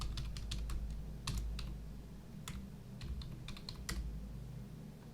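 Someone types a password on a computer keyboard with a quick run of light, close key clicks in small bursts, over a low steady room hum and no talking.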